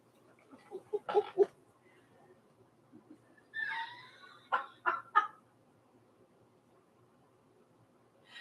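Bird calls from a bird-watching scene, likened to a scream: several sharp, bright call bursts with a warbling trill midway, fairly close over a quiet background.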